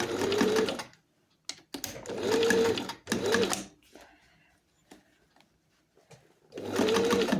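A sewing machine stitches a belt loop in short back-and-forth bursts, each run of rapid mechanical whirring lasting about a second, separated by quiet pauses and small handling clicks, close and clear.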